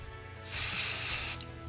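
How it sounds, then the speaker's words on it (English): A steady spray of aerosol dry shampoo hisses into hair for about a second, bright and close, then cuts off, with a faint low hum underneath. "Spray that in there."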